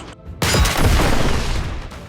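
A film shootout erupts after a sudden loud boom, followed by a dense, continuous barrage of gunfire that stays loud and close for the rest of the moment.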